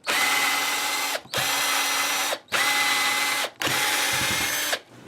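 Power drill or screwdriver backing out the neck screws of a budget RG-style electric guitar, four steady whirring bursts of about a second each separated by short pauses, close and loud.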